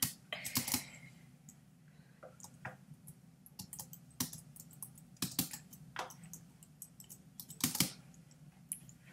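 Arrow keys on a computer keyboard clack in irregular bursts during Minecraft parkour play, close and crisp, with quick clustered presses separated by short pauses.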